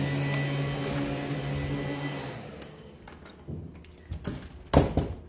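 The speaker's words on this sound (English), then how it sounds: "It is a blower." A loud blower runs overhead as a steady broadband roar with a low hum for several seconds, then drops away, leaving scattered clunks and knocks nearby.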